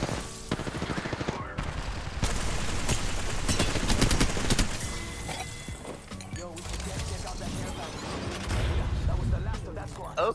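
Gunfire in the shooter game Apex Legends, bursts of rapid shots and crashing impacts throughout, loud and dense, with players talking excitedly over the fighting.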